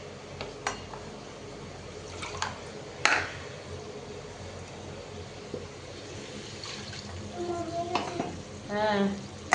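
A chili powder mixture is stirred in a pan, with scraping strokes over a faint sizzle, occasional clinks and a short liquid splash near the end.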